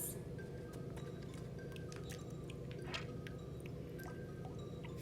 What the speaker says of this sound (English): an aquifer gushing with cool, clean water.